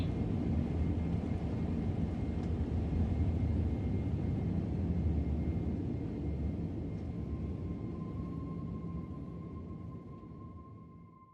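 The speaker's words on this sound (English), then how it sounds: "Successful takeoff of Phoenix 1 en route from MACD headquarters." A Phoenix 1 spacecraft lifting off from headquarters in an audio drama, rendered as a loud, steady low engine roar with a faint high whine that slowly fades toward the end.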